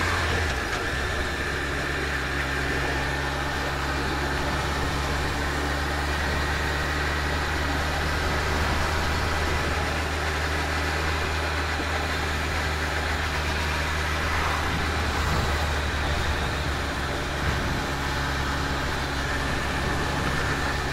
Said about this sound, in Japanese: いやマジで久しぶりのバイクだな本当